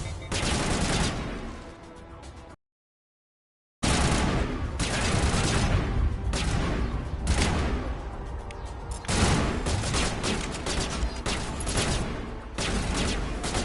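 Sustained gunfire from a Mass Effect firefight, dense rapid bursts of shots continuing loud and close, with one abrupt silent break before the volleys resume.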